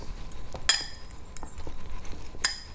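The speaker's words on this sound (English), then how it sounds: "then 1 tablespoon of smoked paprika, and then just give that all a good mix" A spoon clinks against a bowl while chili pepper and smoked paprika seasoning is mixed, with two or three sharp, bright metallic taps over soft scraping and stirring; no voices.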